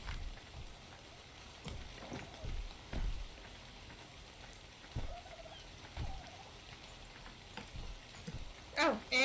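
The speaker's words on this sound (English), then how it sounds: "Oh boy, it is really raining." Rain falls in the video game ARK, a soft steady patter with scattered low thumps and a brief tonal chirp near the end, fairly quiet overall.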